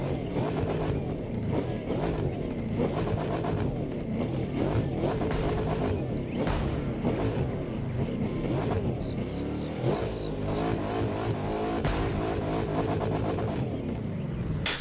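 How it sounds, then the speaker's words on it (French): A Bugatti Divo hypercar in The Crew 2 revs and accelerates steadily, its engine note rising and falling through gear changes, loud and close, with no talking over it. "je vais vous faire donc écouter le son de la voiture pour que vous puissiez voir un petit peu"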